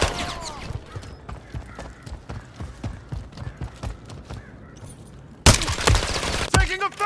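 Gunfire in Call of Duty Modern Warfare 3 multiplayer, rapid irregular shots and bursts throughout, growing louder and denser near the end with close, sharp cracks.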